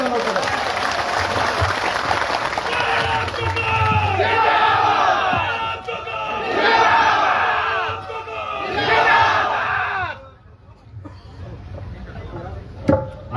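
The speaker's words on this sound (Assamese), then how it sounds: "সকলোকে মই জোৰকে এটা হাত তালি বজাবৰ কাৰণে অনুৰোধ কৰিম" A crowd at a political protest rally claps and cheers loudly for several seconds, with shouts rising and falling in waves, then dies down to scattered noise and a few claps.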